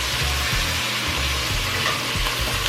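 Chicken pieces frying in oil in a single pot for chicken and rice, giving a steady, close, loud sizzle with soft popping throughout and no voices.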